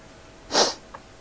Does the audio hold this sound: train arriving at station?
no